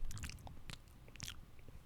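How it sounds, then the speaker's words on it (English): A camel chews its cud slowly and close up, giving soft wet crunching and grinding bites in an uneven rhythm over quiet outdoor background noise. "Just chewing slowly."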